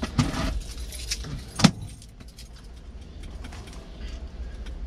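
Keys jangle in short bursts while being searched for beside a heavy-haul truck on the road, with a sharp louder rattle midway and a faint steady outdoor rumble underneath.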